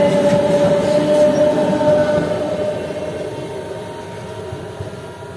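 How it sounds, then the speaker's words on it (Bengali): A local MEMU passenger train pulls out of Sagardighi railway station, its steady rumble and wheel noise loud at first, then slowly fading as it moves away; no voices are heard. "লোকাল ট্রেনটা 1 মিনিট হল্ট দেওয়ার পর আমাদের সাগরদিঘি রেল স্টেশন ছেড়ে দিল"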